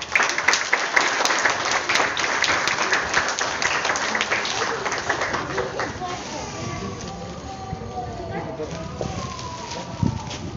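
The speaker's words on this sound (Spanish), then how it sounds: "Un fuerte aplauso." Applause from a graduation ceremony audience for a student, steady dense clapping that fills the room and slowly thins out, with some voices mixed in.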